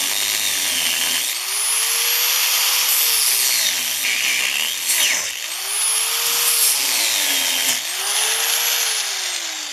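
A power tool grinds a steel pipe for a homemade pipe burner, a loud continuous abrasive whine that rises and falls in pitch three times as pressure changes, close and alone.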